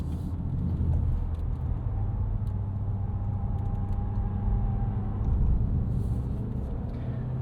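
A 2025 Kia Sorento PHEV plug-in hybrid SUV brakes and corners on city streets, its road noise a steady low rumble heard from inside the cabin with a faint, brief whine in the middle.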